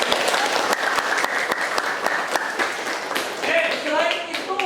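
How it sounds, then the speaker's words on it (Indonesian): Students clapping in a classroom, a brisk scattered round of hand claps from a small group, with voices speaking near the end. "Kasih aplaus."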